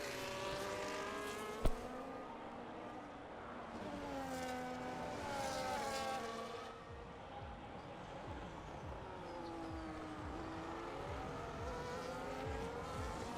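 Several race cars battle together on a Las Vegas circuit in a racing video game, with layered engine whines rising and falling as they shift gears and a sharp click near the start, steady and moderately loud.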